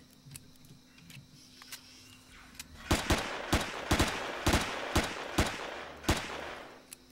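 Gunfire in the video game Empyrion Galactic Survival: scattered single shots at first, then a tighter series of sharp, fairly loud reports fired in short irregular succession.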